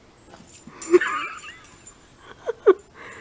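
Puppy named as the source gives a couple of high whimpering yips, one near the start and a sharper pair near the end, close and fairly loud, with a person talking around them in a home.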